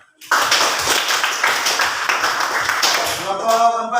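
A classroom group breaks into loud, close applause of many hands clapping together for about three seconds before it thins out, with a voice starting to speak at the tail.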